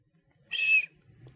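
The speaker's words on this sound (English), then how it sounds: "Can you whistle through your teeth?" A person whistles through their teeth in a single sharp, shrill burst of about a third of a second, close and loud, with quiet surroundings before and after.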